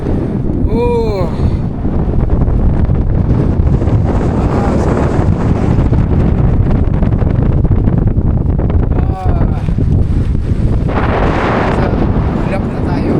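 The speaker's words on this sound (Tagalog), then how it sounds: "Oh, sarap ng hangin. Lamig." Strong, cold wind buffets the microphone high on the Sa Pa glass bridge in Vietnam, a loud continuous rushing roar that persists throughout, with brief voices heard beneath it.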